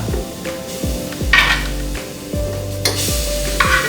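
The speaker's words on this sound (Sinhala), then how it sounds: "මේකට අපි සුදු ලුණු පේස්ට් හැඳි 3ක් විතර දා ගන්නවා" Garlic paste frying with browned spices in a pan for railway mutton curry, with a close sizzle under repeated metallic clinks and scrapes of a spoon stirring against the pan and no talking.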